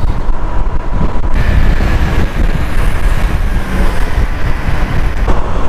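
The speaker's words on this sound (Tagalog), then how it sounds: "Lakas ng hangin, bukas ang visor ko guys." Loud, constant wind buffeting a microphone while riding with the helmet visor open, roaring and rumbling throughout, with a hint of engine drone underneath.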